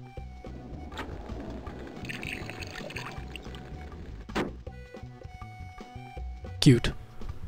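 A bucket of water pours in the Spy Fox 2 point-and-click game, a soft running splash lasting a few seconds beneath talk, followed by scattered clicks and a sharper splashy hit near the end.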